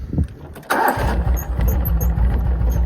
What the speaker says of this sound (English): I have the throttle way down at idle.